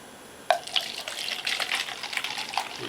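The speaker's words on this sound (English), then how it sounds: "Let's go ahead and pour this into the finest bachelor's glassware." Pepsi Soda Shop Cream Soda Cola is poured into a glass, starting with a sudden splash and continuing as a close, steady fizzing pour for a couple of seconds with no talking.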